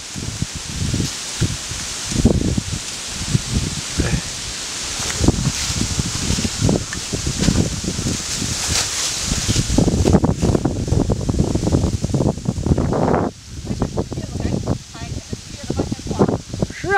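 Wind gusting through autumn tree leaves on an outdoor day, rustling in repeated bursts of crackly swishing, fairly close and uneven in strength, with a voice talking over parts of it.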